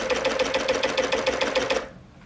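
Industrial cover stitch sewing machine with a binder attachment running at a fast, even stitching rhythm, loud and close, then stopping abruptly near the end.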